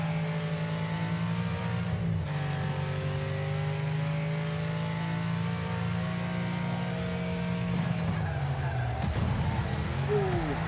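A car skids in Wreckfest: a steady engine drone with long tire-squeal tones, then a sharper scraping burst near the end as the car crashes out, loud and close with no talk.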